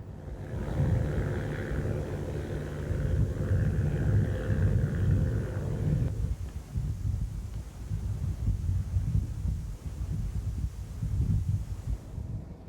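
Small training airplanes fly in formation, a layered engine drone that holds steady and then thins to a rougher, more distant rumble as they pass, alone without voices.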